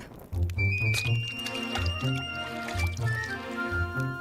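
Water pours and squishes over a pile of crackers, a wet gurgling fill with drips, heard close while people talk over it.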